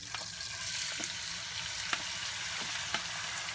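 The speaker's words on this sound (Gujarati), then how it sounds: "અને દાળ નાખી દઈશું" Split mung lentils tossed into a hot pan with turmeric sizzle steadily, a constant soft frying hiss close by, with a few light stirring clicks at intervals.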